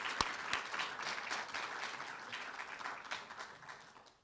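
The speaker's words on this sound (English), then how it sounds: "Can we take a minute and just give our volunteers a round of applause for helping us lead you here tonight?" Audience at an evening know-your-rights event clapping for volunteers, a fairly faint but steady patter of applause that tapers off gradually over a few seconds.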